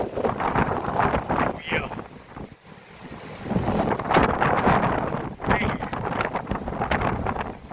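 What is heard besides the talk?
strong hurricane wind blowing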